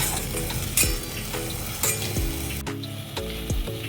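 Potatoes with salt are stirred in a hot pan while making sabudana khichdi, giving steady frying sizzle with repeated scraping and clinking of a spoon against the metal pan.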